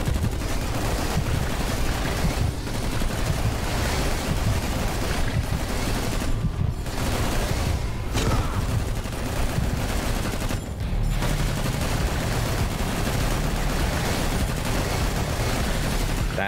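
Turret gunfire in the roguelike video game Anvil Vault Breakers, dense continuous rapid shooting and blasts that are loud and sustained, with brief gaps in the barrage.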